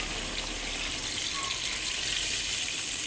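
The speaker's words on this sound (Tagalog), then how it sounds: "lalagyan na natin yan ng sabaw ang magpapasarap dyan" Broth poured into a pot of Filipino chicken tinola, a steady close gushing stream of liquid running continuously without a break.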